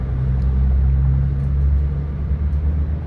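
Onboard the UP Express train from Toronto airport toward Union, a constant deep rumble fills the cabin, steady and close with slight swells in loudness.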